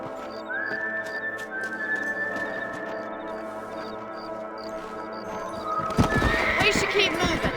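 A horse whinnies in Red Dead Redemption, a long high neigh over a steady background hum, followed by clip-clopping hooves and a louder burst.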